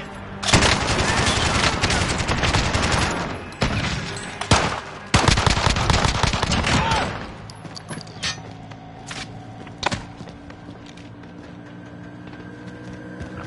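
Rapid bursts of automatic gunfire from the battle royale video game Call of Duty Warzone rattle loud and close for several seconds, broken by brief gaps, then thin out to a few scattered, quieter shots.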